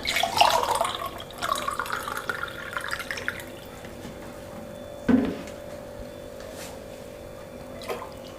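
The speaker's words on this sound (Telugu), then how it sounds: "one and half glass water తీసుకుంటున్నానండి" Water goes into a pot of raw milk for boiling. A short splashing pour fills the first few seconds, then near-silence follows with a single drip or clink, and no talk.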